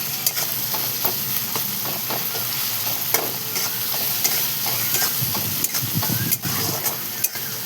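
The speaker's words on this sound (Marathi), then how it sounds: "मीठ टाकल्याच्या नंतर बघा आपण चांगलं परतून घेणार आहे सर्व" Rice mixture with salt being sautéed in a pan for egg rice, a steady frying sizzle with repeated scraping stirs of a spatula, close and fairly loud, no voices.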